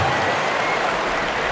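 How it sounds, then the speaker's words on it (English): Crowd applause in the NBA 2K20 basketball video game, a dense, steady wash of clapping and cheering that holds constant throughout at fairly loud level. "You can see the coaching staff rise up and clap for that effort."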